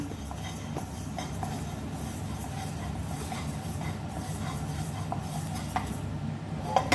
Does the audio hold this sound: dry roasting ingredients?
yes